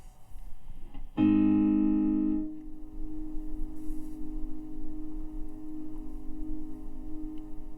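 A guitar note through an Electro-Harmonix Cathedral stereo reverb pedal at maximum rings out loud with bright harmonics, then settles into a steady, unending sustained drone that hangs on without fading.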